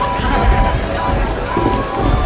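Steady rain patters densely on a surface, a continuous hiss of drops with a low rumble underneath.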